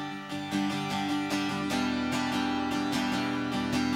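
Acoustic guitar strums chords of a worship song, sustained ringing harmonics with rhythmic strokes, steady and close with no voices.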